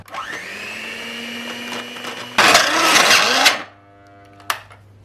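An electric hand mixer whirs steadily at a high pitch through cake batter with baking powder, then surges louder for about a second before giving out and stopping.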